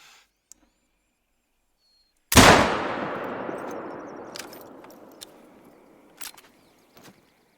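A single loud rifle shot in Hunter: Call of the Wild, fired at a bear while hunting in the Yukon, cracks sharply and then rolls off in a long echoing decay. A few faint clicks follow.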